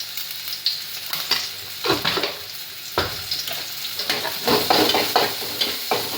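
Chopped onions sauté in a pan at medium heat, a soft sizzle broken by repeated scraping strokes of a spoon or spatula coming in irregular bursts, close up and without talk.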